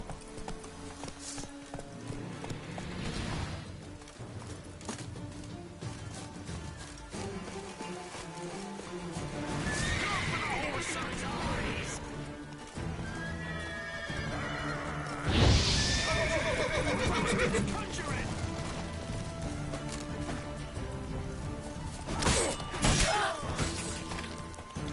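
Roach, a horse in The Witcher 3 video game, lets out several loud whinnies while hooves clop steadily underneath, with clattering and thudding impacts mixed into the game's busy soundscape.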